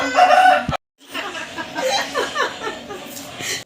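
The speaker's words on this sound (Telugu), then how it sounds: "వాటికి కోళ్ళు మేళతాళాలు." Chickens cluck and crow close by in a yard. The calls come in short bursts, and a brief silence breaks them up.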